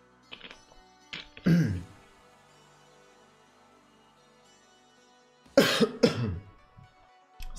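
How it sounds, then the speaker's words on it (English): Several sharp coughs in separate bursts: a few short ones early, then a heavier cluster near the end, with quiet gaps between. "I'm coughing a lot today."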